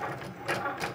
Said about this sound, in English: Put your vinyl shiny side down on your Cricut mat and let your Cricut do its thing.